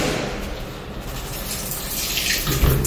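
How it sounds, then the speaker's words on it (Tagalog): Water running from a bathroom tap in a Toronto rental, a weak flow that gives a steady close hiss for the whole stretch, with no talk over it. "Ganyan lang yung tubig niya kapag wala ng stock"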